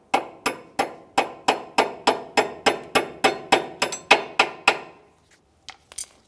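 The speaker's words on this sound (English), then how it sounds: "Let's use a hammer, tap this through." A hammer taps a cotter pin through on a 2008-2017 Mitsubishi Lancer front lower control arm, about fifteen sharp ringing taps in an even rhythm close by, then stops, followed by a couple of faint knocks.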